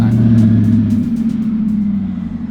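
A big-turbo Lamborghini Huracan running on methanol launches hard, its engine a loud, close, throbbing roar that holds steady and pulses slightly throughout.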